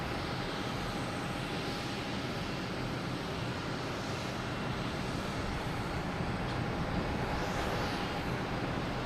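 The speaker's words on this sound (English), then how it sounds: "We have that Alaskan Airlines heading to San Diego. It's heading up to 22 left." An Alaska Airlines jet airliner heads for runway 22 left at Boston Logan Airport, a broad, steady engine roar that holds at moderate distance throughout, with no voices.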